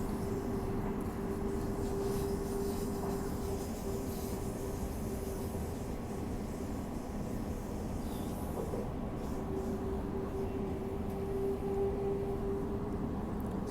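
Interior ride on a Perth Airport Line train, a steady rumbling drone of wheels and motors with a sustained whine that rises and falls over the journey.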